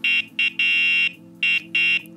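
Horn of a Nanrobot D4+ folding electric scooter sounds in five sharp electronic beeps, short ones and one long blast, loud and close with no talk.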